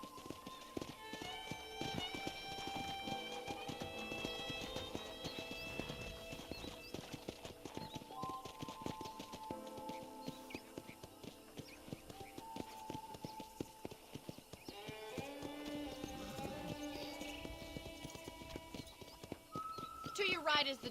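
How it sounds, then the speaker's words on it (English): In the Red Dead Redemption video game, a ridden horse's hooves clip-clop in a steady walking rhythm over an ongoing musical score, with an occasional neigh. "let's see if you can still ride a horse"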